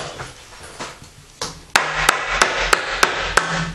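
Wood trim hammered into place around a basement lally column: soft taps first, then a steady series of six loud, ringing hammer blows at an even rhythm.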